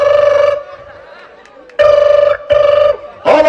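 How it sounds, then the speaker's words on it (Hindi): Telephone ringing as a call is dialled on a TV quiz show, three loud repeated ring bursts with short gaps and a faint studio murmur between them. "कंप्यूटर जी, पप्पू को फोन मिला जाए"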